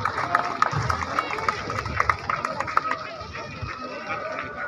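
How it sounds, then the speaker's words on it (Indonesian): Crowd clapping for Mr. Tandim at a rotating trophy handover at Jemaat Sion Sanggen church in Manokwari, West Papua, loose and scattered, with chatter and murmur underneath. "mari kita berikan aplaus untuk Bapak Tandim"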